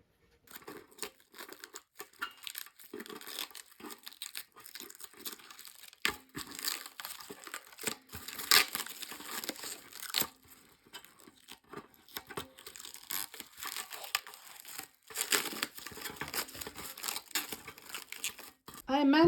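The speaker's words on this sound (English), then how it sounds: "I managed to peel off the protective plastic now from half of these metal things." Protective plastic film is peeled off metal garden bed panels, making long stretches of close crinkling and tearing crackles that come in bursts with brief pauses.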